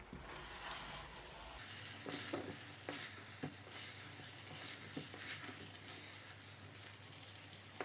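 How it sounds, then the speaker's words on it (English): Alfredo chicken and prawns are stirred in a pan, with a steady sizzle and repeated soft scrapes and clicks of the utensil against the pan. "And now just stir it up."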